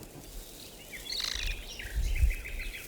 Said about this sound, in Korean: 낮은 덤불에서 끽끽거리는 소리가 울려 퍼졌다.